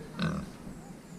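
A fresh, lively farm pig gives a short grunt close by, a single rough burst over a faint background murmur.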